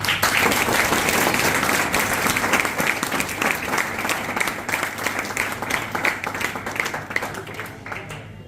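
Enthusiastic applause from a sizable audience, dense clapping that starts strong and gradually thins out while continuing throughout.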